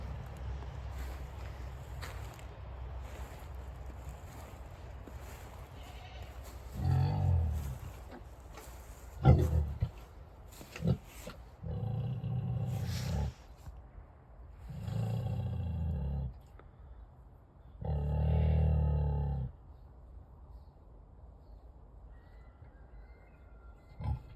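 A mother pig in her pen makes a series of low grunting, growling noises, several short bursts spaced a second or two apart, moderately close against quiet surroundings.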